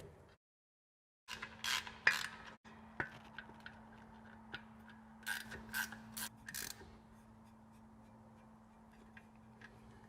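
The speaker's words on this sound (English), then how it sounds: "I now can install the nuts to firmly hold the axle into the axle tube" Nuts are run onto the axle flange studs of a Spicer axle shaft inside the axle tube, with quiet ratchet clicks, metallic taps and a low hum, close and faint, with no talk.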